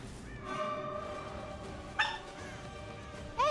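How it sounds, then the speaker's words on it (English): A small dog yips and whimpers nearby in short, high-pitched bursts, with sharper barks standing out at intervals over a low background. "Hey, little doggy."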